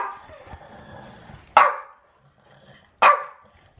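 Two sharp, loud dog barks spaced about a second and a half apart, following a stretch of quieter indoor background noise, as small and large household dogs squabble over food bowls.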